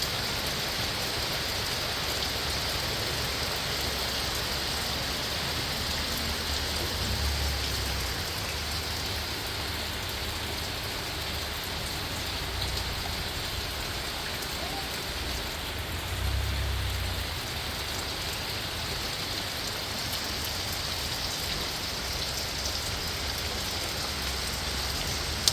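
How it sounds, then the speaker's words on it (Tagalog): Heavy rain pours steadily and evenly for the whole stretch, a dense unbroken hiss on a rainy day with no talk over it. "At malakas po ang ulan."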